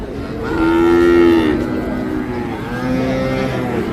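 A crossbreed calf lets out a loud, drawn-out moo close by at a cattle market, followed by a second lower, softer moo.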